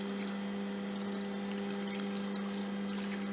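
Isopropyl alcohol pours steadily into a plastic container for rinsing 3D resin prints, a continuous close gushing wash of liquid over a constant low hum.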